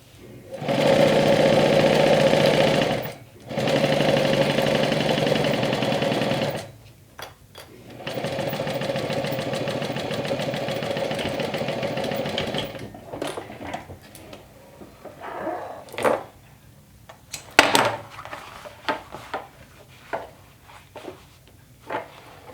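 A sewing machine stitches a crossbody bag in two steady runs of close, loud mechanical whirring with brief pauses, then a longer run, followed by softer intermittent handling clicks and taps.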